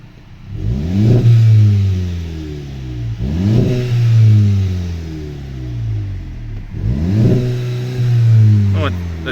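A 2020 VW Golf VII GTI with a 2.0 TSI petrol engine and manual gearbox revs three times in short bursts, each climbing quickly to a rev limiter before falling back, loud and close.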